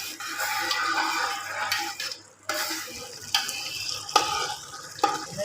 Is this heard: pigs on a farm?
no